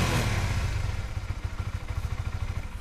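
A Honda CBR 250cc sport motorcycle with 39,000 km on it and a boxy stock exhaust idles close by, a loud steady engine note settling into an even rapid putter with no voices.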